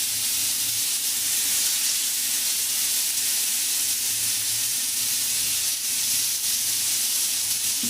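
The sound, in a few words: rock fish frying in hot oil on a pan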